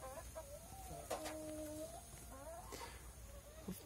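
A large hen at an ornamental poultry ranch gives a few faint, short clucks and a drawn-out call, heard at a distance against quiet background noise.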